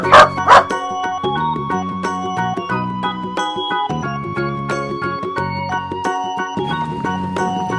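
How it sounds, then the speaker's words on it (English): A dog gives two quick barks right at the start, then falls silent while cheerful background music plays on. "Dog, perro."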